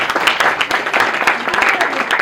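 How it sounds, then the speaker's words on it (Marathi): A crowd applauds at a baby shower program, with dense, steady clapping close by that lasts the whole moment without letting up. "टाळ्या होऊन जाऊ दे सगळ्यांनी पुन्हा एकदा."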